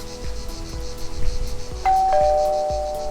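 A two-tone electronic chime rings once near the end, sustained and clear, over faint background clatter and soft insect-like chirping.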